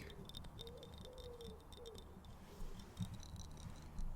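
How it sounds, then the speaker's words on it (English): A bird calls repeatedly in soft, hooting notes against faint background chirps, quiet and somewhat distant. "I love the sound of that bird"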